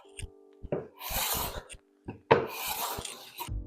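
A restored hand plane shaves fine curls off a wooden board in two rasping strokes, each a quick scraping swish followed by a short rub, close and clear with no talking.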